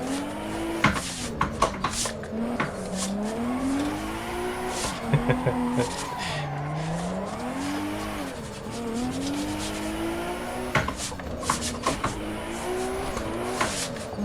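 Race car in Assetto Corsa EVO, the engine note rising and dropping through downshifts, with sharp tire squeals and skids as the handbrake is pulled, continuous and close throughout.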